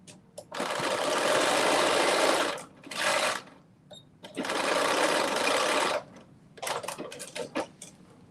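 A sewing machine stitches a seam in a knit dress, running in two long steady bursts with a short one between, then a string of brief stop-start stitches at the end.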